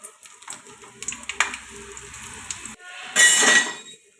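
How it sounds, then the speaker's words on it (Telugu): Whole garam masala drops into hot oil for prawn pulao: a few metal clinks and scrapes of a utensil against the pot, then a sudden loud burst of sizzling near the end. "ఆయిల్ వేడయ్యిందండి ఇప్పుడు హోల్ గరం మసాలా మొత్తం అన్నీ వేసుకున్నాం"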